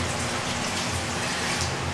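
Heavy rain pours down in the Philippines, a steady, unbroken broadband hiss of drops that stays loud and even throughout, with no voices.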